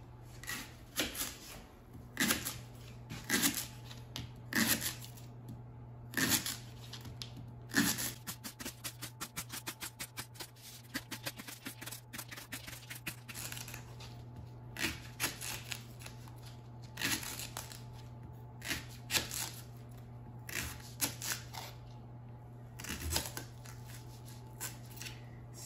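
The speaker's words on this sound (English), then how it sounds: "And then I'm going to slice the leeks into rounds." Knife slicing leeks into rounds on a cutting board: steady, evenly spaced crisp chopping taps, close and quiet, with one stretch of rapid fast cuts in the middle over a low background hum.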